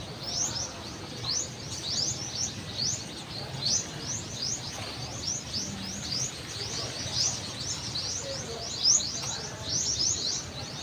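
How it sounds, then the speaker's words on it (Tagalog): Numerous small birds chirp and twitter in rapid, overlapping bursts in flowering trees at Silliman University Medical Center, Dumaguete City, fairly faint and steady, with a soft outdoor background underneath. "Ang daming ibon."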